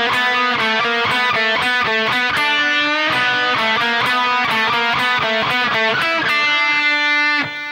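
Heavily distorted electric guitar plays song phrases in one continuous run of quick, evenly picked notes, loud and steady, ending on a held note.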